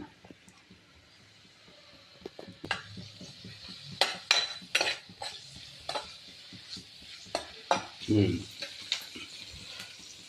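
Onions and green chillies frying in oil for liver fry, a soft sizzle under scattered spoon scrapes and clinks against the pan, with a few louder stirring bursts.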